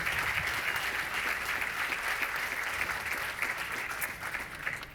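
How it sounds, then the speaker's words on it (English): A crowd applauds at the ceremony marking completion of the Charleston Harbor deepening project, with steady, dense clapping sustained throughout and only a slight easing near the end. "Big round of applause."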